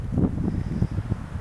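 Gusty wind buffeting the microphone high on a mountain near a spring, low rumbling bursts rising and falling irregularly throughout, close and fairly loud with no talking.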